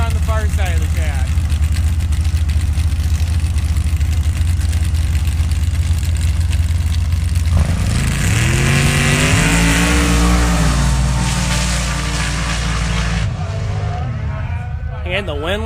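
Drag racers at a spring nationals meet, including a blown alcohol '59 Chevy pickup, loud engines idling and revving, then a rising launch roar partway through that carries on before fading. An announcer talks over the engines.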